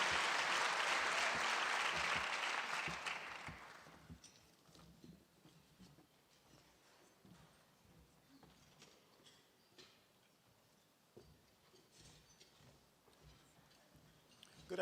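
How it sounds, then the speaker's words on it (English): Audience at an annual conservation-group luncheon bursts into loud applause that fades away after about four seconds, leaving a quiet room with faint ticks and small movements. "Can we another round of applause for Mike for his extraordinary leadership in"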